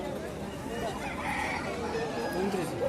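A white fighter rooster at a busy Aseel cock market in Odisha, with crowing and clucking fowl mixed into a dense wash of crowd chatter and talk throughout.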